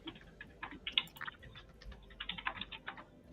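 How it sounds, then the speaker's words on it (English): Loud, fast typing on a computer keyboard, a rapid uneven patter of crisp key clicks in short bursts, close and alone. "The cleric is furiously typing on a keyboard that is very loud."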